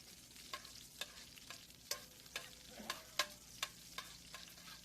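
Butter melting and browning in a pan, a faint quiet sizzle punctuated by a regular series of sharp utensil taps and scrapes, roughly twice per second.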